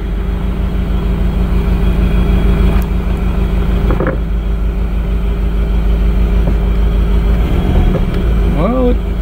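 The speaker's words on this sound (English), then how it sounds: "I'm gonna fire the MR2 up" A Toyota MR2 engine running steadily at idle, a close, continuous low hum with a faint rhythmic pulse; a voice speaks briefly near the end.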